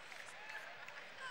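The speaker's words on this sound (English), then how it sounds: "They're on their feet, they're cheering." A home crowd at a Valdosta State Blazers vs. Alabama-Huntsville Chargers college basketball game cheers on its feet, a faint, steady, distant roar that holds throughout.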